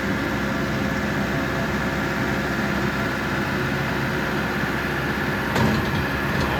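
A TYM 5835R tractor running at about 2,000 RPM while its front loader is raised and lowered, a steady loud engine and hydraulic drone close by, with a brief clunk near the end.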